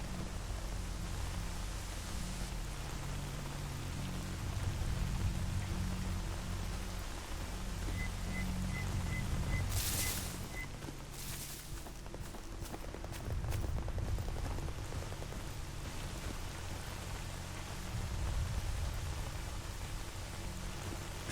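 Steady rain hisses throughout in the S.T.A.L.K.E.R: Anomaly game, an even wash of noise with a cluster of sharp, brief cracks and clatters near the middle.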